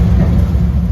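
A 1998 Chevrolet K1500 pickup with a 5.7 liter engine and five-speed manual idles steadily with a low, even rumble, close and alone.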